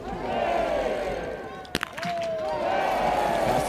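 A Finnish crowd cheers and shouts at a women's biathlon race in Kontiolahti, a broad roar rising and swelling under a commentator's voice, with a few sharp clacks in the middle.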